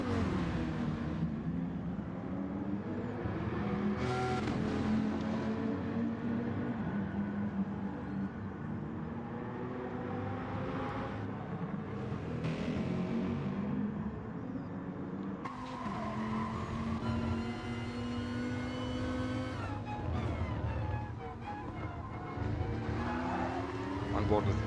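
A Porsche race car drives down the straight in an online racing league, its engine droning steadily with rising and falling pitch. Tire squeal and other passing cars mix in, and commentary talks over it throughout.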